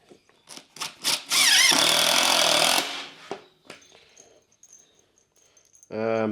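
A screw gun drives fencing screws into a Model A hot rod firewall, a loud sustained whirring burst of about a second and a half, with shorter knocks before and after and a brief voice near the end.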